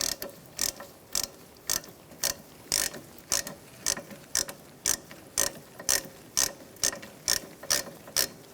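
A ratchet snugs up the brake caliper bolts on a 2012-2018 Ford Focus, clicking in quick, even bursts of ratcheting strokes, close and crisp, with steady repetition throughout.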